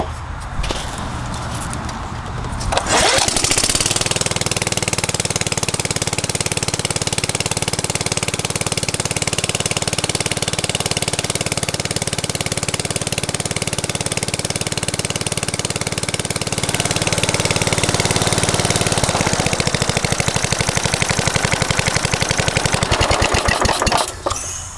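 A 4hp Briggs & Stratton lawnmower engine mounted on a base starts abruptly and runs loud and close with a steady buzzing, rattling drone, then cuts out near the end.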